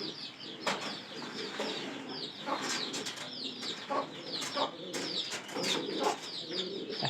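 A pair of pigeons at feeding time coo in soft, throaty bursts, with sharper chirps and occasional wing flutters scattered across a quiet coop background.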